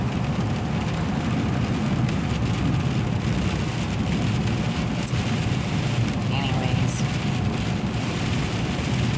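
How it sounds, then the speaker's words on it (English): Steady, dense heavy rain noise fills the whole stretch on a road trip near the ocean, loud and unbroken, with someone briefly speaking over it. "the rain is getting heavier"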